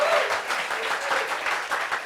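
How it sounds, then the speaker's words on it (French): Short burst of moderate applause from a live studio-style audience, fairly even and slightly distant, with faint voices mixed in. "Applaudissements pour ce bleu syndicat"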